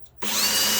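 Power drill fitted with a 9/16-inch step bit boring through a plastic five-gallon bucket, starting abruptly after a brief quiet moment and running loud and steady to the end.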